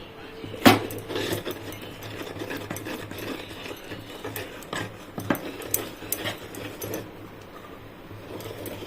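Rice flour is stirred into hot jaggery syrup for athirasam, with a spoon scraping and knocking against the pot in irregular close strokes, one sharp clink near the start, and no talking.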